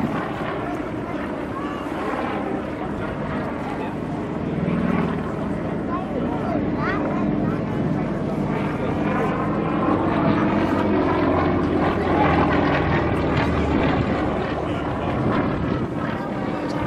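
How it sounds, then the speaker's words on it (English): Yak 52 propeller aircraft performing aerobatics, including rolls and inverted flight, its engine drone steady and fairly loud throughout, swelling slightly midway, with a voice talking over it. "The Yak 52 has the capability of flying upside down for as long as 2 minutes."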